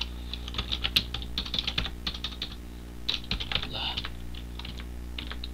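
Typing on a computer keyboard in Microsoft Word, with quick irregular bursts of close key clicks and short pauses between them.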